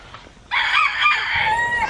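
Rooster crowing loudly with chickens clucking around it at a homestead coop for laying hens and meat birds, the crow bursting in after a quiet start and the clucks continuing close by.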